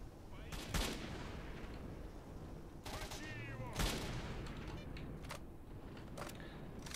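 Sniper gunfire in the video game S.T.A.L.K.E.R.: Shadow of Chernobyl, several sharp shots at irregular intervals over a steady ambient game background with no talk.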